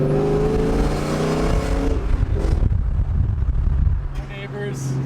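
A loud New Edge Ford Mustang exhaust rumbles deep and steady nearby in a neighborhood, its low growl swelling slightly before easing off.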